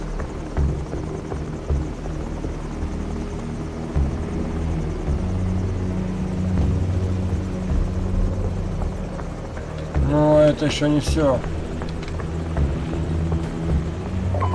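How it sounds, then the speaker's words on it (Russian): A helicopter in Call of Duty 4: Modern Warfare hovers with a loud, steady rotor drone and then flies off, while someone speaks Russian over it and a brief burst of other game sound cuts in partway through. "Вертолет улетает."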